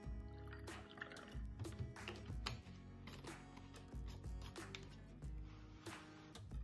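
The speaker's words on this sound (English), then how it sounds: "And then you take your milk or whatever and pour" Milk poured into a glass for dalgona whipped coffee, a continuous liquid filling sound with clinks and drips, close and fairly loud with no talk.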